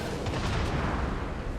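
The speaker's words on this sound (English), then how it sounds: "Honky takes a salvo at him" A battleship main-gun salvo booms in World of Warships, a heavy, rumbling low blast that rolls on for over a second, loud and close.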